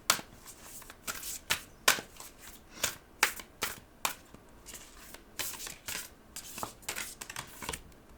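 Shamanic Medicine Oracle cards are shuffled by hand close up, with rapid, irregular riffling slaps and flicks repeating for several seconds, no talking.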